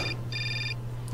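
A telephone rings in the adventure game Syberia: two bright electronic trills, one cut short at the start and a fuller one after a brief gap, over a low steady background hum.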